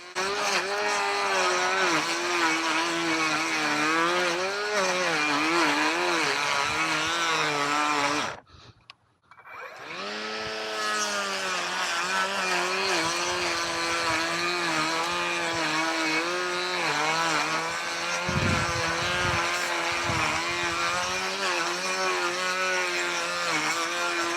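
A Toro cordless stick edger cuts a trough through hard compacted dirt along a sidewalk, its loud motor whine steady and close, with load-dependent pitch wobble, a brief cutout partway through, then resuming without speech.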